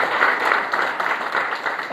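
Church congregation applauding, a dense, even wash of clapping from many hands that continues steadily and fairly loudly for the whole stretch.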